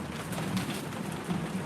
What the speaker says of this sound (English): There we go with the rain. It's coming down for real.